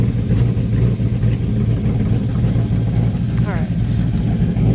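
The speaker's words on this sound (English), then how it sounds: "Try to rev it up." A 1998 TVR Chimaera 500 runs with a steady, deep engine drone close by, its V8 rumble holding fairly even throughout with a voice speaking over it.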